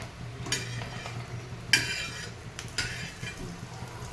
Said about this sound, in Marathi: आपण खोबरं असं छान असं शेवनेरी होईपर्यंत छान भाजून घेणार आहोत